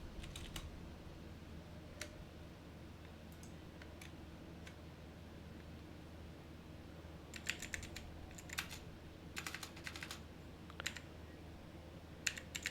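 Typing on a computer keyboard to enter a command, with sparse single clicks early on and then quick bursts of keystrokes later, quiet and close against a steady low hum.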